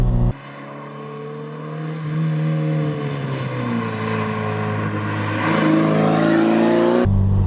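A Toyota MR2 engine drones steadily from inside the car on a country road, its pitch climbing as it revs through the gears, with a brief drop between pulls and a sharp cut at the end.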